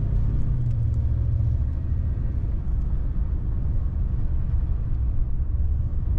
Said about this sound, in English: Very smooth running Cadillac.